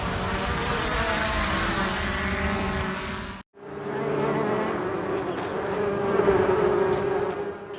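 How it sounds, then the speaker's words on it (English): A swarm of angry bees chasing a Mavic drone, a dense continuous buzzing drone of wings and rotors, loud and close throughout, briefly cut off at one point before resuming. "a swarm of super angry bees decided to crash the party"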